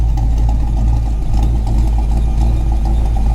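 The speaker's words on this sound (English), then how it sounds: "Got a little belt squeal because I washed the engine too." A 1994 Ford Mustang GT with a freshly washed engine idles loud and close in a steady, rumbling drone, a thin belt squeal riding along on top.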